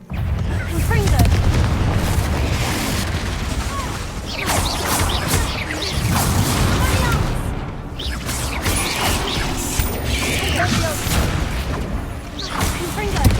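Confringo spell blasts in Hogwarts Legacy, a continuous run of booming explosions and crashing debris, loud and dense, with a voice shouting over the noise.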